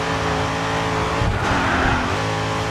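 A race car engine drones loud and steady as it drifts through a dirt corner in the racing game GRID 2, holding a sustained high engine tone with shifting pitch and a brief dip midway.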